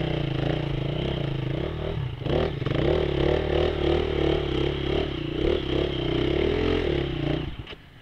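A motorcycle engine labours while the bike rides over an obstacle, with a wavering mid-range drone, a scrape and clatter partway through, and the engine dropping away near the end.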